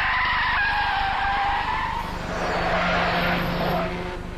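A car skids hard to a stop, its tires squealing loudly in a sustained screech that holds for several seconds over engine roar, in a tense chase scene from a Bangla police crime drama.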